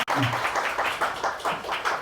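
An audience at a public event claps together in a soft, continuous patter that carries on for a couple of seconds at a modest distance.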